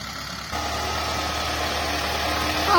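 A low, rumbling old tractor engine idling steadily nearby on a farm field, kicking in louder after a brief moment and holding a constant chugging drone.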